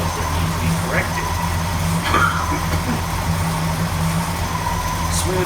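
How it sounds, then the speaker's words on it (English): A 1970 Ford LTD engine idles slowly and steadily while cold, a low rumble close by with faint background noise. "Its idle's a little slow still when it's cold."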